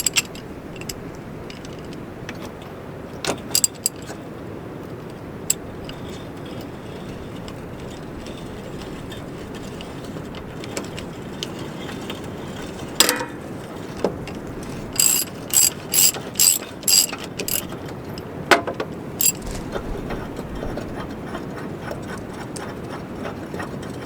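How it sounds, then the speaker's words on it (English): Ratchet working a body mount bolt loose on a 2008-2016 Ford Super Duty, bursts of quick clicking that stand out from a low garage background, including a run of rapid strokes midway. "we'll switch over to our ratchet"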